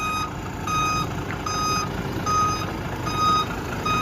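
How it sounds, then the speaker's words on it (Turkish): A vehicle reversing during L-parking practice at a driving course sounds a loud, steady electronic beep, evenly spaced pulses repeating close by over a low engine rumble. "Geri geri sokmaya devam edecek."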